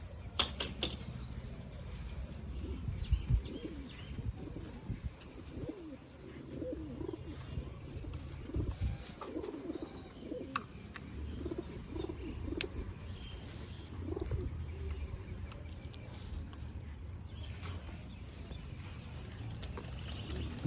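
Several pigeons cooing in soft, repeated low calls, fairly close, over a background hum with occasional faint chirps.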